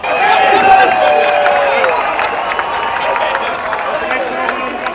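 A large open-air metal festival crowd at Wacken Open Air applauds and cheers continuously, a dense roar of clapping and shouting that stays loud throughout, with a presenter's voice carrying over it at the start.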